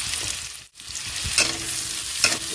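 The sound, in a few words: frying onions and green chillies in oil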